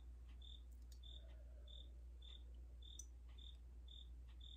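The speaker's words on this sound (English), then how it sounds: "there is a cricket in my house" A cricket chirps indoors in a house, a steady rhythmic series of short, high, faint pulses repeating about every half second over a low electrical hum.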